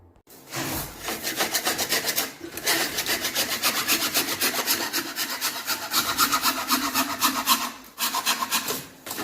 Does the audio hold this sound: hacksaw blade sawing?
yes